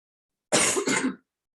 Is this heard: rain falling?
no